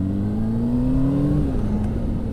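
A car pulls away from a green light, its engine note rising steadily as it accelerates, a close, continuous hum heard from inside the vehicle.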